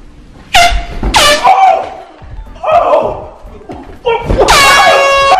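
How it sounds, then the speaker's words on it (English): Loud blasts of an air horn, several short honks in bursts, with people shouting and laughing around them. "I'm gonna place this air horn underneath the cushion"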